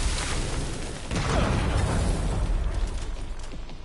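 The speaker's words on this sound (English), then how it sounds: "Those are mortars." Mortar shells exploding in the video game RE9, a sustained rumbling blast building after about one second and lingering as a loud, heavy wash of booming noise.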